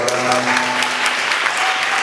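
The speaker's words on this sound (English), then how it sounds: "give her a round of applause" A crowd claps steadily and loudly throughout, a dense wash of applause with no pauses.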